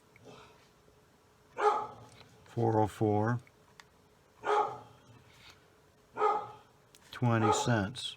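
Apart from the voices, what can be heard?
dog barking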